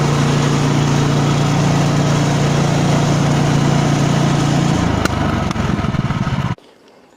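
A Woodland Mills sawmill engine runs loud and steady close by, its pitch dropping near the end before a sharp pop and an abrupt shutdown into near silence.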